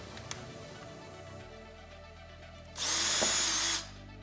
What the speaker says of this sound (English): I like to pre-drill a hole